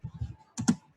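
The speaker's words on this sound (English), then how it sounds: "I'm typing" Typing on a computer keyboard during an online class: a quick run of soft, close key taps, a brief pause, then two sharper, louder key strikes.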